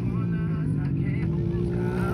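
A go-kart engine drones steadily at high revs on a dirt track in a residential condominium, a loud, close, buzzing engine note that holds fairly even, with a voice talking over it.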